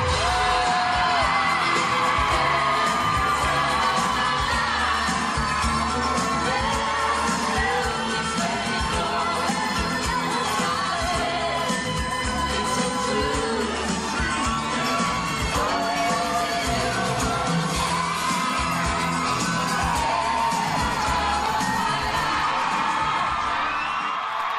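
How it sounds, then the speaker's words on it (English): A crowd at a football club event cheers, whoops and yells with claps and bangs mixed in, a dense, loud, continuous roar that holds steady for the whole stretch. "So give yourselves a round of applause for turning up."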